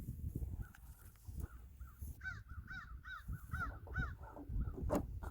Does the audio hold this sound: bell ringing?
no